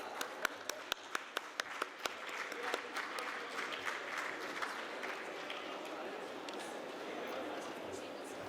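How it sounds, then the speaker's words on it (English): An audience at a design confluence and showcase in Thane claps to welcome guests onto the stage: sharp individual claps at first, then swelling into continuous applause, with an announcer speaking over it. "Let's welcome them with your big applause"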